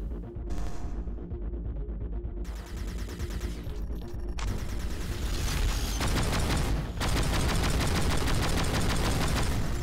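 Gunfire in a video game: dense bursts of rapid automatic shots with mechanical clicks, broken by brief pauses and then resuming in loud, sustained volleys.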